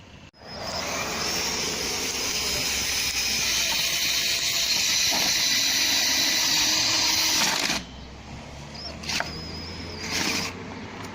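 A cordless drill drives self-tapping screws into plastic while fixing a window handle, whining steadily and close for several seconds before stopping, followed by a few short bursts of drilling.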